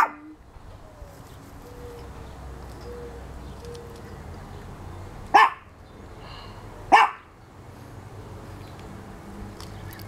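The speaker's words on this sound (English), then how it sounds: "Small, yappy type dog." Small yappy dog, a husky, giving two sharp barks several seconds apart over quiet outdoor background, with distant bird sounds.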